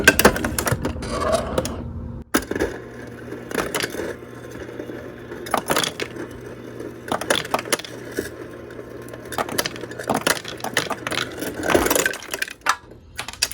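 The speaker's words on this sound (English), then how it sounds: "I'm going to put some more ice in it." An RV refrigerator's ice dispenser drops cubes into a glass, producing repeated clattering, jangling bursts separated by brief pauses, close and fairly loud, with a low motor hum beneath some of them.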